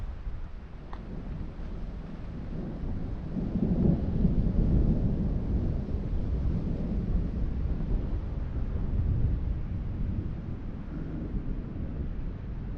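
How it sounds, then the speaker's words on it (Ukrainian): A low, continuous rumble of thunder from an approaching storm rolls for several seconds outdoors while hiking, swelling in the middle, with wind buffeting the microphone and no voices. "Чуєте, як гримить?"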